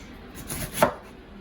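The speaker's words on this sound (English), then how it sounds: "when I was chopping the potatoes" A knife chopping potatoes gives a single faint, close cut against a board, with no talking.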